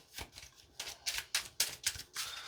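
Trading cards from a dinosaur-themed card game deck are shuffled by hand in quick, crisp riffling bursts, about seven or eight close, fairly quiet strokes in an uneven rhythm.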